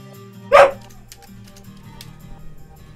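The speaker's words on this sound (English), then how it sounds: "Sorry about my dog." A single dog bark bursts out loud and close over a quiet background hum during online game play, then fades away.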